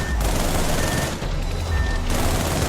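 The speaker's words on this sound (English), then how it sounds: "during the battle, you probably can't hear over the gunfire, the missiles, the explosions" Battle in the video game Project Nimbus: dense, continuous gunfire and rapid bursts roar at high volume with low explosive rumble underneath, briefly easing in the middle before surging again.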